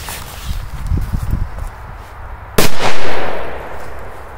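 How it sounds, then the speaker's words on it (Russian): A firecracker bursts beside a toy car, one sharp loud bang after a stretch of quieter scuffing and handling sounds, with a rumbling, fading tail that follows the blast. "Нужно закинуть какую-то петарду,"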